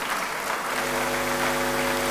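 An audience claps in a hall after a speaker, co-founder Bernhard Janichowski, is introduced; dense steady applause fills the room with a low sustained tone beneath it.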